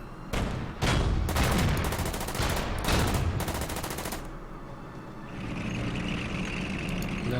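Gunfire in the wargame Order of Battle: Kasserine Pass: several loud, broad bursts of shots in quick succession over about four seconds, then rumbling vehicle-like noise fading out, with no talking.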